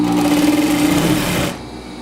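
A sewing machine stitches a mitered corner in fabric, running loud and steady up close for over a second before the motor stops and the needle halts at the seam.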